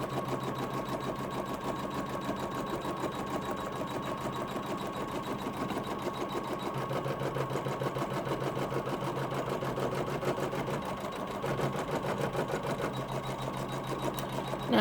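An embroidery machine stitches fabric in the hoop with a fast, steady mechanical chatter, close and continuous with no voices.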